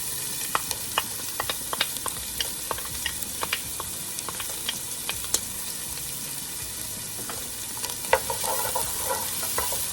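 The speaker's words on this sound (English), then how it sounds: "I'm gonna go ahead and add my onions and my jalapenos." Onions and jalapenos sizzle steadily in extra virgin olive oil in a heated pot, a close, continuous frying hiss broken by frequent sharp utensil clicks from stirring, with no voices.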